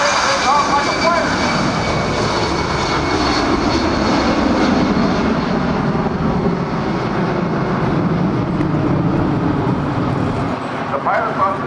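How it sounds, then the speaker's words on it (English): A C-17 Globemaster III jet roars through its takeoff at a military airshow at NAS Oceana, a loud, sustained, rumbling engine wash that persists throughout while an announcer talks over it. "That airplane takes off like a plane."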